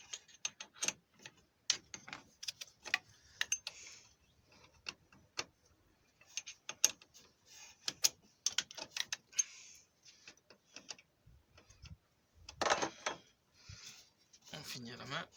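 Socket wrench loosening the fuel filter fitting on a BMW 330d E46, giving quiet irregular ratcheting clicks and metallic taps that come and go in short bursts, with some soft talk in the background.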